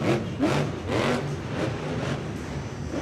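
A monster truck engine revs in repeated surging bursts, loud and close inside an indoor stadium, the roar rising and falling several times with no voices.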